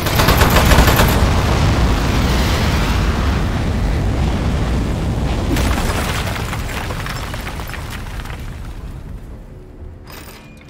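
Loud, dense rattling turret gunfire from the video game Aperture Desk Job, a sustained barrage of rapid shots and booms that fills the whole span and fades slightly toward the end.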